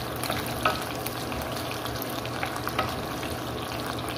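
Dried salted fish (tuyo) frying in a pan, a steady crackling sizzle with small pops that carries on evenly throughout, heard close up with no talking.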